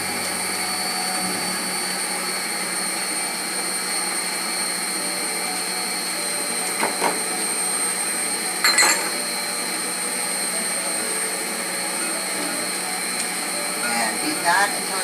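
Electric mixer beating a creamy spice loaf batter with vanilla, a steady whirring drone running throughout with a few brief clatters, fairly close and loud.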